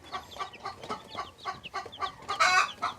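Young backyard meat chickens in a coop, still in the brooding stage, cluck and chirp in a quick irregular series of short calls, fairly close, with a louder burst near the end and no talking.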